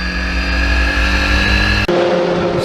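Historic Formula Ford race cars at Silverstone in tricky conditions scream past at high revs, a loud steady engine drone that cuts abruptly to a second car's higher, harsher note.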